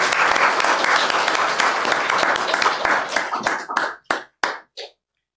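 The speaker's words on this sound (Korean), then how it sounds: "박수로 환영합니다." Church congregation applauding to welcome new member families, a dense burst of many hands clapping that thins into a few last separate claps before fading to silence.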